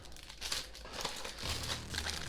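Close plastic crinkling and rustling, steady and fairly soft, with a few sharper crackles.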